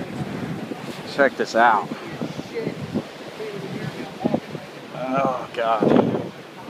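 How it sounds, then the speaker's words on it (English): Strong hurricane wind during Hurricane Sandy on the New Jersey coast roars and buffets the microphone as a steady rushing bed, with people talking and exclaiming loudly over it throughout. "Wind is really ripping. Really whipping."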